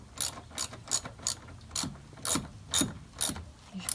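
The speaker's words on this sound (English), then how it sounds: "so I'm tightening the 3 different nuts on here." A hand ratchet tightens the nuts holding a car's passenger side mirror, giving a string of crisp clicking bursts in an even back-and-forth rhythm, close and clear with no voices.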